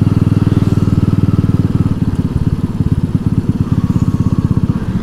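A Honda C70 motorcycle engine runs steadily while riding in fourth gear, a close, loud, rapid putt-putt pulse that stays continuous throughout without talk.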